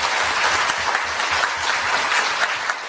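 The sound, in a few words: audience applause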